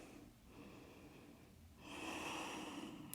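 A strong breath drawn in during a morning yoga stretch class, quiet at first and then swelling into a loud, breathy rush of air for the last second or so, with no talking.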